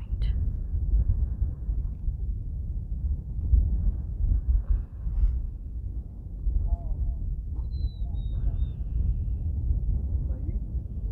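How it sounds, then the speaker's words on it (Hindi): Strong wind at the Chirmiri hilltop viewpoint near Chakrata buffets the microphone with a continuous low rumble and gusty swells, with a faint high whistle partway through. "अब हवा की आवाज़ सुन रहे हो, कितनी तेज़ हवा आ रही है यहाँ पे।"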